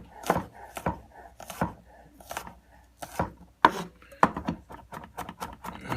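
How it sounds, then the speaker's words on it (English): A knife chops garlic on a cutting board in a series of sharp, irregular taps, some rapid and some spaced apart, close and fairly loud with no talking. "And get it nice and chopped up."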